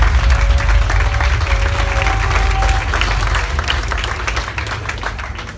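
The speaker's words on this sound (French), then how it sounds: "On les applaudit bien fort," An audience at a kizomba dance competition at the Hôtel Karibea in Guadeloupe applauds the participants, a loud, dense burst of clapping and crowd noise that gradually eases, with brief voices beneath.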